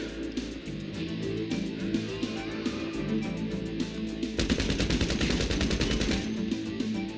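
Gunfire in GTA Online, a continuous stream of close shots with a rapid machine-gun burst that grows denser and louder in the second half, alone without talk.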